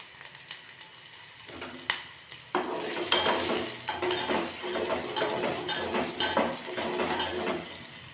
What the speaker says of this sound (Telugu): ఉల్లిపాయలు బాగా వేయించుకోవాలి.